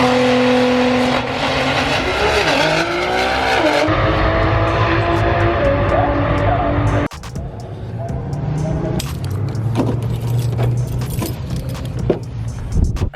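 A Nissan GTR engine at a GTR festival revs and roars nearby, with shifting engine tones, a sudden cut, then idling and passing-car noise with sharp clicks over crowd chatter.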